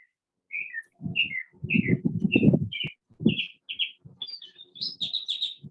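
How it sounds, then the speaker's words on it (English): Birds chirping and tweeting in short repeated whistled calls, clear and fairly close, with no speech. "Birds."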